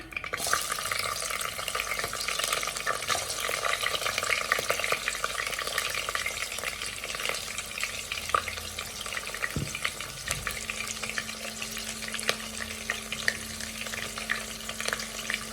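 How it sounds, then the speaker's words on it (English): Onion sizzling in hot oil with a star anise and a sprig of rosemary, a steady dense crackle of frying that carries on throughout, close and even, with faint occasional clicks. "Our oil is hot now. I'm adding in 1 star anise and 1 rosemary. And our onion is going in."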